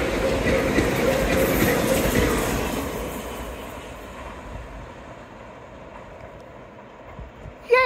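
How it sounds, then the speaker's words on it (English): A train rolls past at Dawlish Warren, a broad rumbling roar that is loudest at first and then gradually recedes into the distance, with no voices over it. "Yay! Train!"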